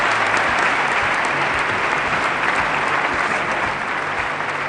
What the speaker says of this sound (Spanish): los grandes partidos intentan cerrar filas con este atronador aplauso